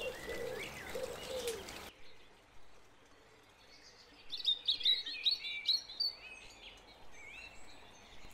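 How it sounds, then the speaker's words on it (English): Several birds chirp and tweet in quick, scattered bursts at a garden feeder, fairly close, with a softer cooing call early on against quiet outdoor background. "After watching the birds feed for a few days"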